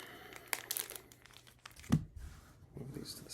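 A foil trading card pack wrapper is torn open with loud crinkling and ripping bursts, then a sharp crunch midway, with the plastic rustling close up throughout.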